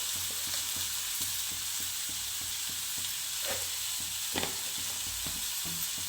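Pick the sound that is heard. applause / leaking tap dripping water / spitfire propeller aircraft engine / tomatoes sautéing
tomatoes sautéing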